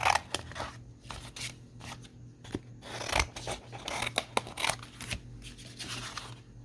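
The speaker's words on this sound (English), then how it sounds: "I'm just gonna cut these apart before I trim" Scissors cutting apart paper tags for a children's collage board, a close run of crisp snipping strokes at an uneven rhythm with soft paper rustling between the cuts.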